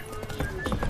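Roach, the horse in The Witcher 3, galloping in a short burst of rhythmic hoofbeats, fairly close and steady, with a faint whinny-like edge and no talking.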